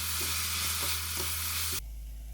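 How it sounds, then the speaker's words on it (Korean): Fish cake being stir-fried with carrot, cheongyang chili and seasoning sauce, a steady close sizzle with soft rhythmic stirring scrapes that breaks off abruptly near the end, leaving a low hum. "당근, 청양고추, 양념장을 넣어서 볶아줍니다"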